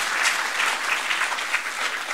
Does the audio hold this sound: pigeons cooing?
no